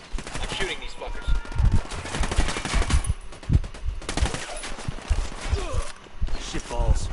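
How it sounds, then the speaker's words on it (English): Gunfire in Rainbow Six, bursts of rapid shots and scattered single cracks spread through the stretch, mixed with game effects and people talking over it. "I'm shooting these fuckers."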